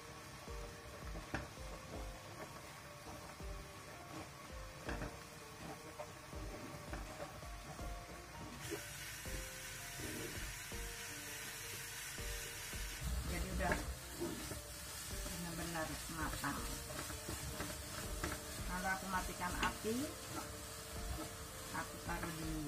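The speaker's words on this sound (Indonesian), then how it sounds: "aku masukkan kelapa keringnya dan kita aduk-aduk sampai airnya" Grated dried coconut being stirred in a pan, a faint scraping and soft sizzle of drying moisture, with irregular spatula scrapes that grow busier and louder toward the end.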